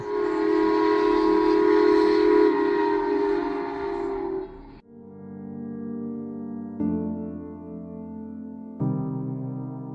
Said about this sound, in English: We made it back to a room just in time for the train to return to the depot.